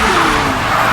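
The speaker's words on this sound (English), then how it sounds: "The truck barrels toward him at full speed." A truck in a film action scene barrels toward a man at full speed, making a loud, continuous roaring engine rush with a tire-squeal edge.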